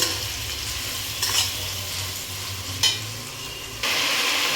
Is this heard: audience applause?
no